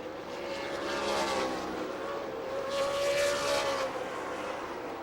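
Stock race cars at New Smyrna Speedway, a continuous roaring engine drone that swells twice as cars sweep past at a distance, with no one talking.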